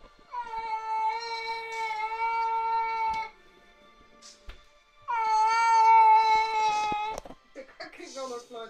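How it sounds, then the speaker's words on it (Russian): Two adult cats yowl in long, loud, drawn-out wails, each lasting about three seconds with a pause between, followed by a few short trailing sounds near the end. "Взрослые коты-то уже орут так же, так с ним голосом"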